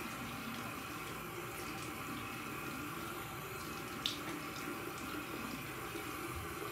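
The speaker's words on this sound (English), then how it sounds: "I'm gonna go ahead and wet my face." A tap runs steadily into a sink while someone wets their face, a constant moderate rush of water with a single small clatter partway through and no speech.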